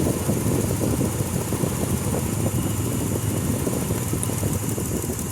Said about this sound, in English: So that is all 6 cylinders running now.